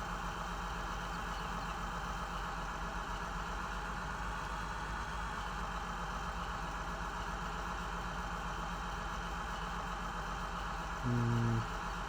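A combine harvester engine idles in the Farming Simulator 17 video game, a steady, droning hum that holds level throughout, with a short low tone near the end.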